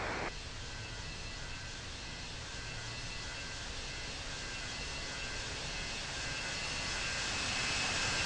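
Continuous heavy roar of an aircraft's engines at Salt Lake City airport as it is cleared for takeoff, a broad steady rumble that swells slightly toward the end.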